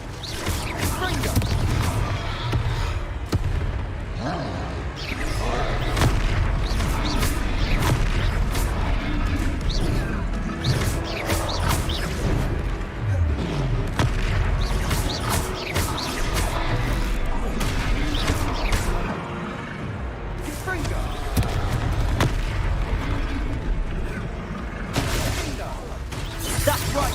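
Confringo fire spell blasts in Hogwarts Legacy, a loud dense barrage of explosive bursts and crashes amid continuous combat noise and music, with talking mixed in throughout.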